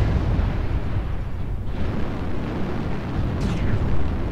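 A mech in a video game takes hits, a continuous heavy rumble of explosions and weapons fire, dense and loud throughout with a brief whooshing streak near the end.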